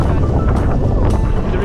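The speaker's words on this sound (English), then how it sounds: "The wind is super strong." Strong wind buffets the microphone on a sandy coast in Portugal, a loud, continuous roaring rush with gusty swells and no break across the short stretch.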